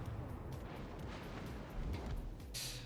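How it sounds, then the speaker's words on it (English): Booming blasts of in-game fireworks in World of Warships rumble on through a short burst, loud and dense with low thuds, ending in a bright hissing crackle. "Boom, fireworks."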